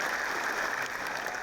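An audience claps together at a talk, a dense continuous patter of hands held at an even level for a brief stretch with no voices over it.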